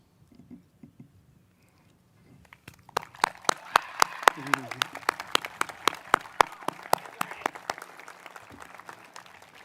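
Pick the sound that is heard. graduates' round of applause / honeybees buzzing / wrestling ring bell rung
graduates' round of applause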